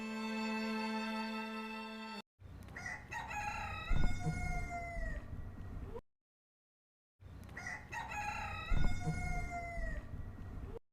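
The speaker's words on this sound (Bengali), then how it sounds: "মোরগ তার রঙিন পালক ঝাঁকে কণ্ঠ উঁচু করে ডাকছে" A cartoon rooster crows twice, each a loud, drawn-out cock-a-doodle-doo separated by a brief silence, and a sustained musical tone plays before the first crow.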